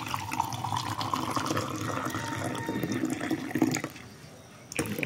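Water runs steadily from a kitchen tap for a few seconds, a loud continuous splashing stream that briefly drops off near the end before gushing again.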